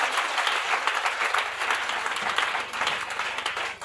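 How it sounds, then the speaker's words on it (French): A church congregation at a Friday evangelical service claps and cheers loudly and continuously, a dense wash of applause filling the room, with a few voices mixed into the crowd noise. "Acclame très fort Jésus-Christ"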